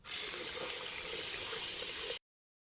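Tap water runs steadily into a sink as hands are washed with soap, a continuous close hiss and splash lasting about two seconds before cutting off abruptly.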